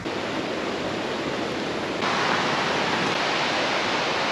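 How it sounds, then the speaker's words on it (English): A mountain waterfall near Lake City, Colorado roars steadily and loudly, a dense broadband rush of heavy falling water that swells slightly stronger midway and continues without pause. "Just made it up to the waterfall."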